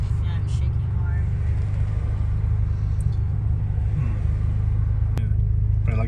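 A Nissan 240SX engine idling roughly and shakily, a steady low rumble that dips and surges unevenly throughout, with brief sharp pops and a faint voice in the background.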